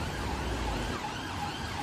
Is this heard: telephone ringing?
no